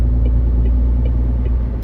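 Cab of a MAN TGX 26.520 truck with a 520 hp engine merging onto a dual carriageway on a test drive, with a loud, steady low diesel drone and rumble under faint ticking, continuous and close, no speech.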